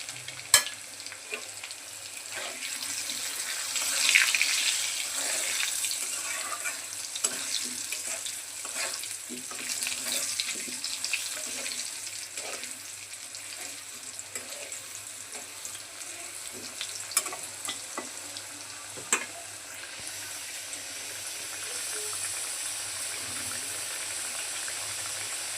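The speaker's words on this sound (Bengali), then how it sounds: "আলুগুলো লাল লাল করে ভেজে নিলাম" Potatoes frying in oil with salt and turmeric for chicken biryani, a steady broadband sizzle running throughout with occasional sharper crackles and stirring scrapes, close and fairly loud, no talking.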